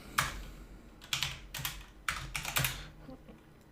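A terminal command is typed on a computer keyboard for a Manjaro Linux install, sounding as a few quick bursts of close key clicks with short pauses between them.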